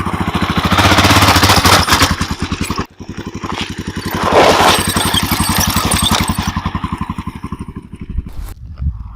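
A Honda XR 650 L dual sport motorcycle climbs a steep hill, its single-cylinder engine thumping loud and close in a rapid, steady pulse. There is a brief cut in the power, then the engine labours on and eases off near the end.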